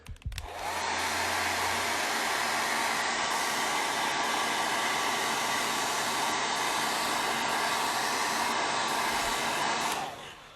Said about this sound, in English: Let me get my hair dryer here.